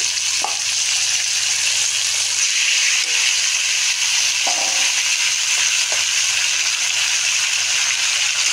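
Taro leaves sizzle in a hot pan alongside a hilsa fish head and prawns, a steady close frying hiss running throughout with a few brief stirring clatters.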